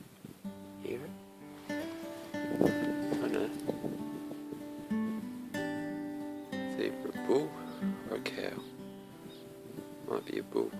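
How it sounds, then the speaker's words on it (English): A camel gives deep, groaning, rumbling bellows in drawn-out bursts in Australia, fairly close, with people talking quietly between the calls. "Actually, you know what that sounds like? That's a camel."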